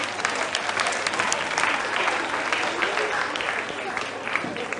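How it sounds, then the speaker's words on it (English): Sustained applause from a school quiz championship audience, dense and steady clapping throughout, with a faint voice or crowd murmur underneath. "A round of applause, ladies and gentlemen."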